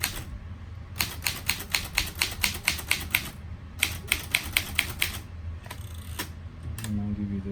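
Keys on a 1937 Underwood Champion portable typewriter strike in two quick rhythmic runs of sharp clacks, close up, followed by a few scattered strokes and a brief mechanical whir, with faint talk.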